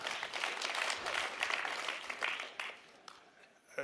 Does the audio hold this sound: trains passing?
no